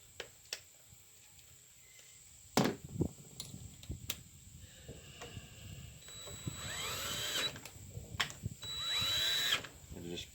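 A cordless drill whirs in short bursts as it backs bolts off a Husqvarna LC 121P push mower, with a couple of longer, rising spins near the end and clicks and clanks of handling between them.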